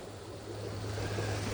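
A 40-foot waterfall at White Oak Falls in Pennsylvania, partly frozen in winter, gives a steady broadband rush of falling water with a low rumble, constant and fairly distant, no voices.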